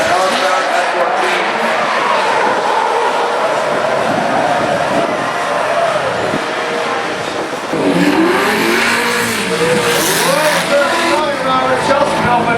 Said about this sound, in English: Corolla, Mustang, and a 240. Massive angle left from Turk. Ford Mustang and the L-Star S14